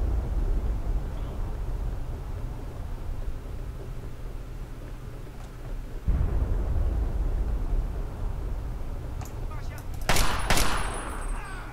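Gunfire in the video game Fallout 3 comes as a dense, continuous roar of shooting and booming, with a sharper, louder burst of shots near the end.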